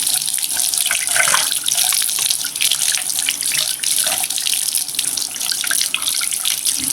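Steady running tap water pours over an air conditioner filter, a continuous close splashing rush with no voices.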